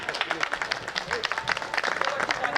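An audience claps steadily and fairly loudly at a Hindi poetry gathering, a dense patter of hands with some crowd noise underneath.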